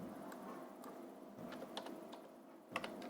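Quiet keyboard typing, a handful of irregular key clicks with one sharper tap near the end, over faint room hum.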